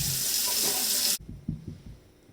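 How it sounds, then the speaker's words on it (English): Water runs steadily from a kitchen faucet as something is rinsed while making rose water and rose oil, then cuts off abruptly, leaving a few soft clunks and handling noises close by. "So I'm gonna rinse that off."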